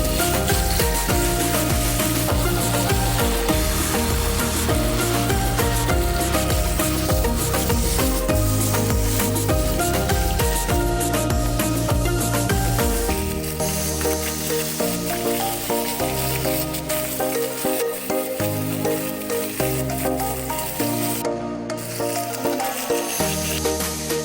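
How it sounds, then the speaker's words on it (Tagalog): Milkfish (bangus) fries in a pan with a steady, continuous sizzle that runs the whole time beneath loud tonal background music. "I-golden brown po natin bawat side at least up until maluto."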